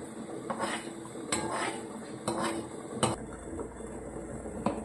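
Roasted ajwain is scraped from a pan into a vessel, with several sharp metallic clinks and scrapes of a spoon against the metal at irregular intervals over a quiet background hum.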